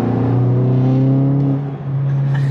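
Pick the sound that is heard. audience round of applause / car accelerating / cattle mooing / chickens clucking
car accelerating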